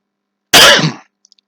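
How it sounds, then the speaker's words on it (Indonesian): A single sharp, close cough burst lasting about half a second, followed by a few faint tiny clicks; otherwise quiet. "Maaf, batuk."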